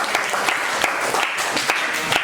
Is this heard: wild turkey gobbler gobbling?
no